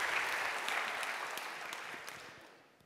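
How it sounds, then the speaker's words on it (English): An audience at a Ruby programming conference breaks into applause, a dense wash of many hands clapping that starts full and gradually fades out. "come on, people, give me some clapping"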